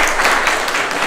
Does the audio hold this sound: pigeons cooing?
no